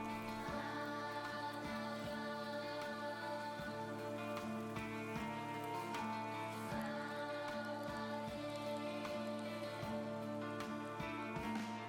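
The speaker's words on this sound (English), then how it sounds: "It's raining again." Rain falls steadily in the horror video game Silent Hill f, a continuous hiss with scattered drips beneath sustained tonal ambient music, with no talking.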